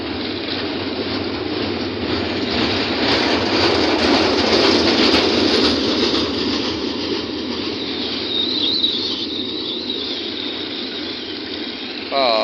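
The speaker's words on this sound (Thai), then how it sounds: "ผ่านไปแล้วครับ ผ่านไปแล้วครับขบวน หนึ่ง เจ็ดหนึ่งนะครับ" Thai train number 721 rolls through a station, a loud continuous rumble and clatter of wheels and cars sustained throughout at close range, with a faint brake squeal or hiss toward the end.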